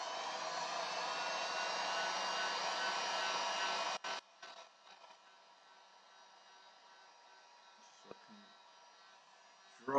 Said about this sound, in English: I'm just going to hit it with the heat gun